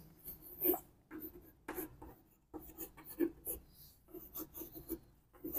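Chalk or marker strokes on a board in a classroom lesson, a series of short, quiet scratchy bursts with brief pauses between them and no speech.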